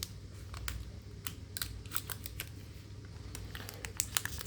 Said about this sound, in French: On prend les ciseaux pour les ouvrir à peu près comme il faut